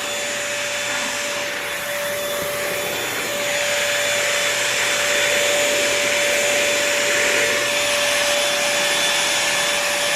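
A Bissell 3-in-1 lightweight stick vacuum runs steadily as it picks up crumbs, giving a loud, constant motor whine with a fixed high tone that rises slightly partway through, alone without talk.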